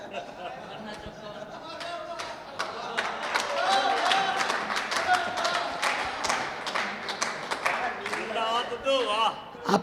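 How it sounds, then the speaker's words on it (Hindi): Audience at a Hindi poetry gathering claps in a dense, sustained burst of applause that swells and fades over several seconds, with crowd chatter mixed in. "बढ़िया ताली बजाओ यार तुम लोग यार"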